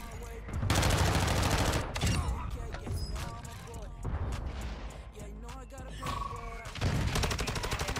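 Rapid bursts of automatic gunfire in a video game, loud and dense, with short pauses between volleys and shots layered over game effects, while players talk over it.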